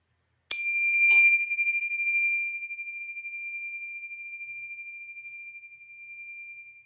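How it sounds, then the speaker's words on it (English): A single bell is struck once, giving a clear bright ring that hangs and slowly fades over several seconds with a gentle wavering shimmer. "maybe listen to the sounding of the bell"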